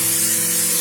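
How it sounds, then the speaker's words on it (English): Butter sprays from a can onto a grill before turkey burger patties go on, a short continuous hiss that fills the whole moment, close and loud. "Spray some butter"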